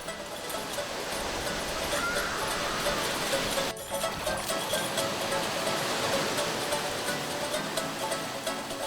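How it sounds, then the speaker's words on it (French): Ocean waves break in the pass at Tikehau, a continuous loud roar of surf and rushing water that stays steady throughout with no voices. "la deuxième richesse de Tikehau, ce sont ses vagues"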